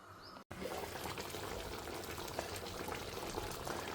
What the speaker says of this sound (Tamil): ஸோ நல்லா கொதிச்சுன்னு இருக்கு.